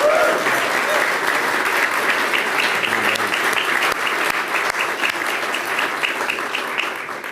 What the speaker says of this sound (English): Let's give Michael another round of applause for that